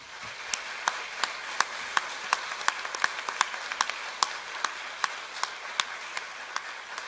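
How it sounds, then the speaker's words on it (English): An audience claps for the guests at an evening discussion event, producing a moderately faint, even patter of applause with sharp individual claps standing out at a steady pace. "So please, a round of applause for our guests."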